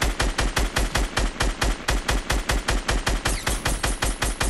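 Rapid automatic gunfire from a Fortnite Battle Royale match during the SMG era, loud and sustained in an even, fast rhythm of bursts with no pauses across the whole stretch.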